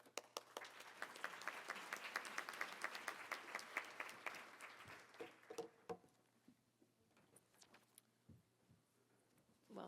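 An audience at a scientific annual meeting plenary applauds the speakers, a full round of clapping that builds, then thins into scattered claps and fades away, heard from a distance at low level.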